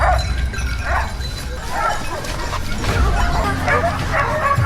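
Hunting dogs bark and yip in short, repeated bursts during a wild boar hunt in a forest, with whimpering between barks over a low, continuous rumble of background noise.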